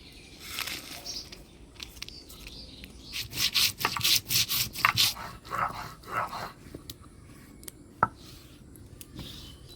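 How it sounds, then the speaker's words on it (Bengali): Coriander, cumin and dried chilli being ground on a grinding stone, a series of rough rhythmic scraping strokes in a dense middle run, close and moderately loud, with a sharp knock near the end and no talking. "এবার ধইনা জিরা শুকনো লঙ্কা বাইটে নেব"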